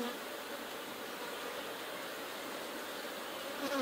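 Honeybees buzz steadily around an opened hive being worked after a split, a dense even hum that holds throughout at close range, with no talk.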